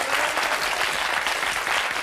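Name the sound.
applause in TV studio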